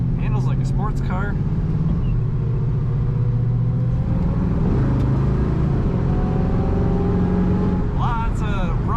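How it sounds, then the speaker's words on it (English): A 1935 Ford Deluxe Street Rod putting out a deep, steady exhaust rumble under throttle, low and loud throughout, with someone talking over it for much of the stretch. "Lots of rumble in that awesome exhaust note when you put the throttle down."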